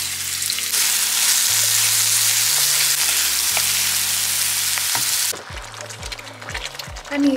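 Onion and garlic frying together in a pan give a loud, dense sizzle that holds steady for about five seconds, then thins into quieter crackling with a few soft clinks near the end.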